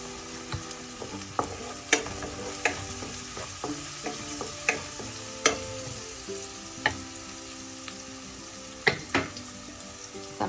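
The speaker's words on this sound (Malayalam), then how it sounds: "ഈ സമയം നമുക്ക് 1/2 ടീസ്പൂൺ മഞ്ഞൾപ്പൊടി ചേർക്കാം. അത് ഈ എണ്ണയിൽ കിടന്നൊന്ന് മൂക്കട്ടെ." Half a teaspoon of turmeric powder frying in hot oil for a Kollam-style mackerel pepper curry, a steady close sizzle punctuated by repeated sharp spoon taps and scrapes against the pan.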